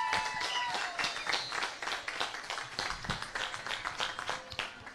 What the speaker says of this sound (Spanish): El aplauso para todos ellos,